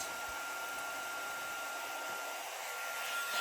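A heat tool melting embossing powder on a stamped card blows a steady, even whoosh of hot air that runs unbroken from start to finish.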